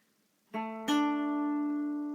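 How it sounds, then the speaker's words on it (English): Two guitar notes picked with a plectrum in quick succession, the second ringing out clearly and sustaining, close and moderately loud. "Just checking if I'm hitting the right note with my plectrum."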